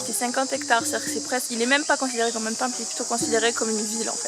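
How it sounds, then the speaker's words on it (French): Crickets buzz loudly and continuously in the jungle around a temple at Angkor near Siem Reap, Cambodia, a constant high shrill layered under close conversation in French. "Je pense qu'on entend les grillons là au taquet fort."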